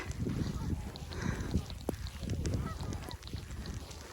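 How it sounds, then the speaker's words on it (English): Several geese honk repeatedly at middle distance, overlapping calls over an outdoor background with some low rumble, in snowy, icy weather. "Look at all the geese."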